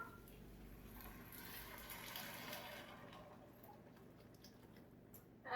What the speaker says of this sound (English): So I'm going to add a quart of chicken broth.